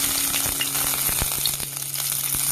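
Cumin seeds and two small bay leaves frying in hot oil for a Bengali egg curry, a steady close sizzle with scattered crackles and pops throughout, no voices.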